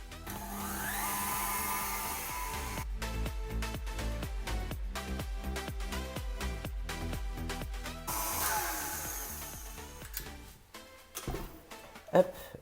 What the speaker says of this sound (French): Donc on va fouetter tout ça jusqu'à ce que ça augmente un petit peu en volume.